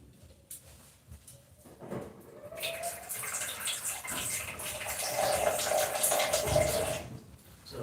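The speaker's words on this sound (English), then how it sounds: "adding a bit of water to the pepper so it can blend well." Water poured from a container onto chopped green pepper in a kitchen blender, a splashing stream that starts after a moment of quiet, then builds to a steady, close pour before tapering off.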